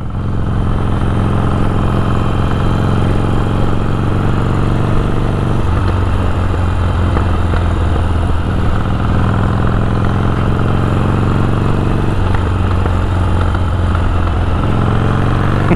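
A Harley Davidson Iron 1200 fitted with a custom exhaust tip idles close up, a loud, deep, continuous throb with a lumpy, uneven pulse and a couple of slight shifts in tone.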